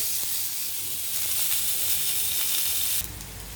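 Onions sizzle and hiss in hot oil in a pan for egg curry, a steady close frying crackle that holds loud and even before dropping off abruptly near the end.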